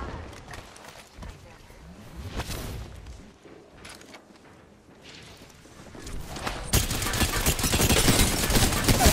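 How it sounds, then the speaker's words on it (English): Gunfire in Apex Legends during a ranked match, dense bursts of shots that swell louder toward the end, with footstep-like clatter and talk mixed in. "Wait, why is there one shooting from behind?"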